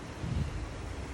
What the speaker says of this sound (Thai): แถวบ้านแปนจะลมแรงแบบนี้ตลอดนะทั้งปีค่ะ